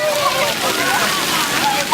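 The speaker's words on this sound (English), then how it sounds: "He's playing in the water." A small boy splashes and plays in water, a steady sloshing wash of water sound that runs throughout, close and fairly loud, with a brief splash near the end.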